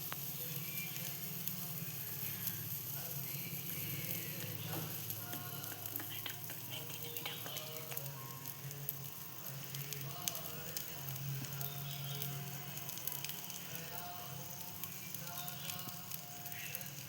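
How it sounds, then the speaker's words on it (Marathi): Mustard seeds crackle and sizzle in hot oil at a constant busy level, with small pops and spits scattered through a long, even frying hiss. "मोहरी टाकून घेऊया."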